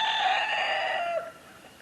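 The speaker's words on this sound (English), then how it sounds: "They're crowing like crazy" Rooster crowing in a backyard chicken coop, a single loud drawn-out crow close by that trails off after about a second, followed by quiet.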